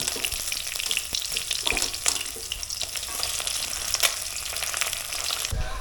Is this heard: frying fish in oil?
yes